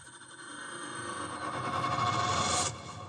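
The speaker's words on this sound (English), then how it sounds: "It would pop up with a big day complete or something like that with success, and it's just kind of a suspenseful, like, hey, good job." Synthesized suspenseful success chime marking a completed day in an app: a soft electronic tone that swells steadily, then cuts off suddenly, with no voices.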